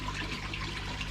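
Water pushed up by an air-pump driven filter in a koi pond, a soft continuous bubbling and splashing trickle at low level with a faint steady hum underneath.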